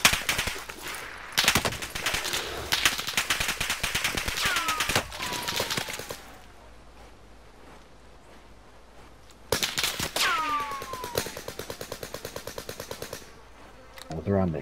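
Call of Duty: Warzone firefight with rapid bursts of machine-gun fire, loud and close at first, then a quieter lull before another volley of rattling shots and whizzing rounds.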